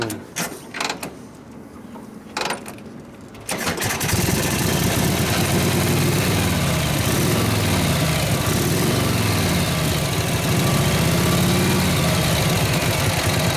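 A Harley panhead motorcycle engine, being tuned with carb adjustments after kick starting, sputters through a few quiet seconds before firing up and running steadily and loudly, close by, with no talk over it.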